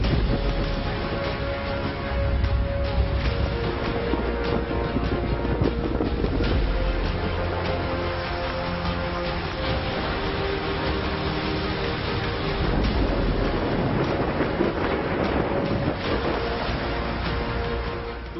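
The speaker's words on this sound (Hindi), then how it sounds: "समंदर की लहरों के साथ साथ उठता ये शोर अरब सागर में उठे इस साल के पहले चक्रवात बिपरजॉय का" Rough Arabian Sea surf churning ahead of Cyclone Biparjoy near Porbandar, a steady loud roar of waves and wind with no let-up through the whole stretch.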